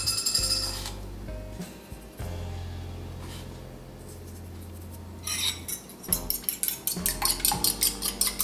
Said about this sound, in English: Whisk 3 eggs with salt and pepper and set aside.